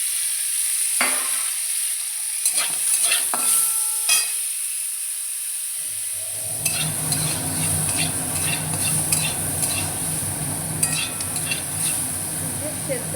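Taro and potato curry is stirred in a pan with mustard. A few quiet spatula scrapes and clicks come first, then a fuller, continuous sizzle and frying hiss with scattered stirring knocks.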